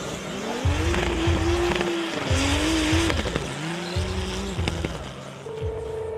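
Loud drift car at a Red Bull event, engine wailing and shifting pitch as the tires squeal and skid continuously, close and intense for several seconds.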